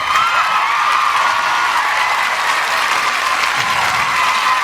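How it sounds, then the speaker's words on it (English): Sustained audience applause with scattered cheers at an outdoor festival talk stage, a dense, steady wash of clapping from a large crowd that holds at full level throughout. "Let me give you a round of applause and a cheer."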